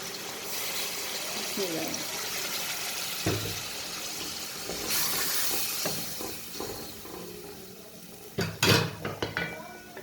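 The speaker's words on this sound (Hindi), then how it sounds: "मटर हमारे भून चुके हैं, थोड़ा सा पानी डालेंगे इसमें।" Water goes into a hot pan of fried peas with a sizzling hiss and steam, while metal utensils clatter and scrape against the pan and a person talks intermittently.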